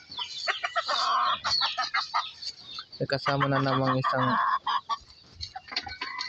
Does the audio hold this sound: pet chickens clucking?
yes